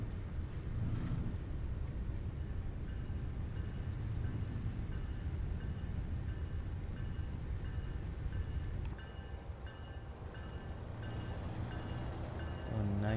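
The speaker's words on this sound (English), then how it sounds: "Oh, Amtrak." An Amtrak train rumbles past in American Truck Simulator, a continuous low rolling drone with faint rhythmic clatter heard over the ambience of a truck crossing a bridge.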